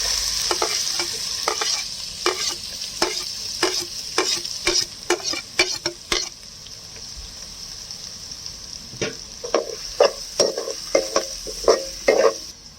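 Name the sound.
sautéing chopped onion in a pan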